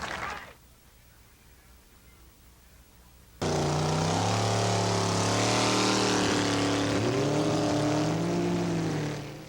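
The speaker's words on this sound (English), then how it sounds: "A familiar sound in a new place, the roar of hydroplanes on Tacoma's commencement bay." Unlimited hydroplane racing boats roar on Tacoma's Commencement Bay, a sudden loud, sustained engine howl with shifting pitch following a quiet stretch, steady and close until it begins to fade at the end.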